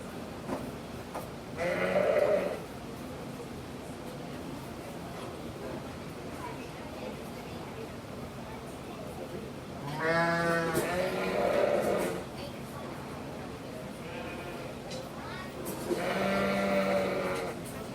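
Sheep bleat at a 4-H sheep and goat show, a few separate calls spaced across a steady arena murmur with people talking in the background.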